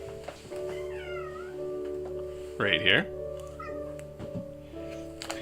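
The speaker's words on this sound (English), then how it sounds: "I've got a very excited cat crawling on my leg." An excited cat gives a loud, close meow in the middle of a steady indoor hum, while a person speaks briefly around it.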